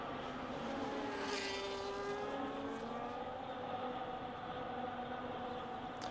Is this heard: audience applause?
no